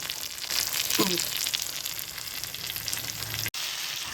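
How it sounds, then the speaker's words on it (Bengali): Meat braising in a pan for kosha crackles in a continuous close sizzle, with a brief stir midway and a sharp cut near the end, no talking. "আর এদিকে মাংস কষাতে দিয়েছি, আর মাংসটা প্রায় অনেকটা কষানো হয়ে গেছে"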